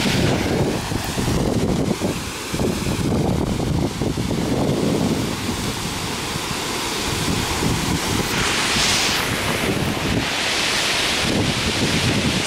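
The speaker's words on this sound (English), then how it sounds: "I want to just observe the waterfall" Gira waterfall in Gujarat roars as a steady, loud broadband rush of falling water, continuous throughout with wind buffeting the microphone and a brief hiss near the end.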